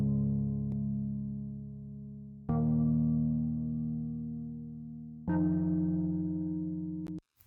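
Synth keys in a modern metalcore synthwave song strike three separate chords, each ringing out and fading slowly before the next, with a dry tone and no other sound.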